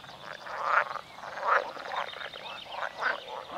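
Green grass frogs call at an evening pond, a chorus of repeated rasping croaks rising and falling in bursts, moderately close and with no voices over them.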